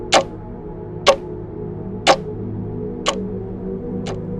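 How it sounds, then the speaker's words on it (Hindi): A clock ticks loudly through a quiet night room, five sharp evenly spaced ticks about one second apart, standing alone over a low steady background hum. "अचानक घड़ी की टिक टिक आवाज तेज होने लगती है।"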